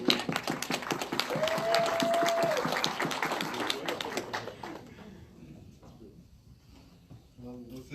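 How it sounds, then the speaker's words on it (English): Audience round of applause at an IT panel event at a university, dense clapping that fades away over several seconds, followed by quieter room sounds. "Special round of applause for Jessie"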